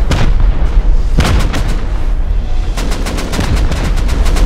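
Rocket launcher fire and explosions in the survival game Rust during a raid defense: a dense, continuous barrage of loud booms and sharp gunfire-like bursts, with clustered rapid blasts in the second half.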